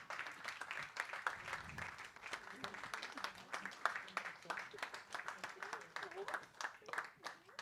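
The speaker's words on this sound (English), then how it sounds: "Let's give a round of applause." Applause at a TB conference gift presentation, brisk clapping from a modest audience with distinct individual hand claps in a quick irregular rhythm, fairly quiet, with a voice briefly audible partway through.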